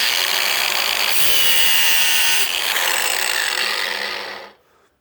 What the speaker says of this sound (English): I'm going to do a quick light swipe with the grinder on the 45-degree setting